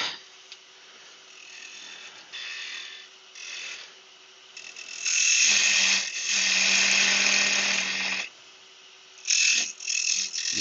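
Wood lathe turning a coarse-grained piece of wood for a bud vase, the tool chattering against it in a loud, rough, scraping whir that comes in bursts with short pauses between cuts.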